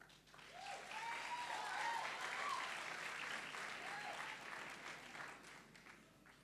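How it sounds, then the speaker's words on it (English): Applause with some cheering from an audience at a National Science Week launch event, swelling quickly and holding steady for several seconds before tapering off, with scattered voices in the crowd. "it's only the ladies who are cheering for me"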